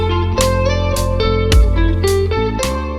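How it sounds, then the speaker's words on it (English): An indie rock drum track plays back with full mix, kick and snare hits punching through sustained tonal layers in a steady groove, loud and close, with no talking. "So let's have a look at that and start with the drums."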